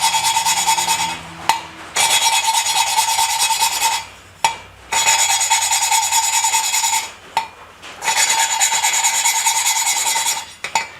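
A harsh rhythmic rasping of grinding paste scrubbing on metal on a motorcycle part, loud and close, in long strokes broken by brief pauses.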